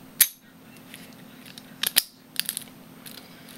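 A padlock is picked up close by wiggling a tool in the keyway, giving sparse, sharp little metallic clicks and ticks with quiet gaps between them.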